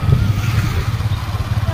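A motorcycle carrying four riders, its engine a steady close low rumble with slight rhythmic pulsing, heard from on the bike.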